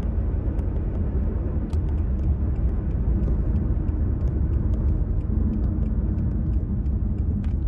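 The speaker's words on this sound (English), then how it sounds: "Let the car run. It's in neutral right now." A manual transmission car idles in neutral with the air conditioning running, giving a steady, close, low engine rumble that holds even throughout with no talk over it.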